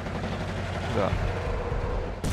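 A tank is destroyed in the card game KARDS with a rumbling, booming explosion and gunfire-like crackle under steady game noise, ending in a sharp burst; someone speaks briefly over it.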